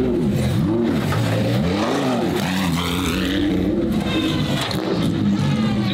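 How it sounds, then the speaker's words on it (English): A loud Lamborghini EVO2 race car engine drones steadily up close, with a high straight-cut gear whine riding above the rumble as the pitch rises and falls. "hear those straight cut gears whining"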